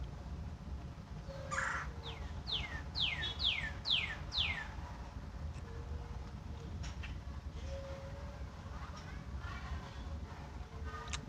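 A red-bellied woodpecker in a tree gives a quick series of about six rolling, rising calls, moderately clear against a steady low outdoor rumble, then a few faint chirps and ticks follow in quieter ambience.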